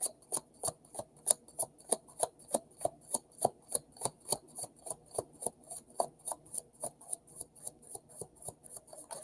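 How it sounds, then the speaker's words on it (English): A deck of tarot cards is shuffled by hand, giving a quiet, steady run of crisp card slaps and riffles at an even, brisk rhythm close by. "that was a good shuffle"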